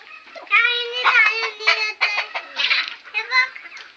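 Country hens on a Konkan backyard farm cluck in short, close bursts as a little girl scatters rice for them, with a voice mixed among the calls.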